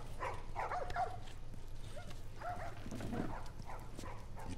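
Dogs in The Last of Us video game bark and yip in short, irregular bursts at moderate distance, over a low background hum with no talk in between.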